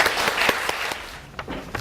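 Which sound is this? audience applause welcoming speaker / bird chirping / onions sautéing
audience applause welcoming speaker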